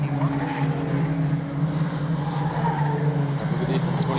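A 1971 three-speed Holden race car holding around 5,800 rpm on a circuit at a Victorian State Race Series round, a loud steady engine drone with a strong low hum that stays constant and close throughout.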